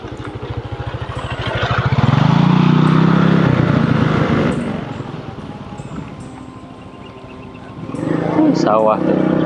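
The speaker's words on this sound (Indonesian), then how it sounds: "Ntar ini banyak motor yang lewat" Motorbikes passing along a village road near rice fields in Sukabumi, engines swelling loud and close, fading, then another approaching, with voices talking over the traffic.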